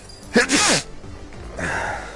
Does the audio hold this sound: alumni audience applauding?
no